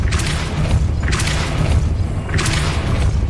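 Depulso force spell cast in the video game Hogwarts Legacy, heard as three loud, whooshing booms spaced roughly a second apart, each a broad burst that trails off into a rumbling game soundscape.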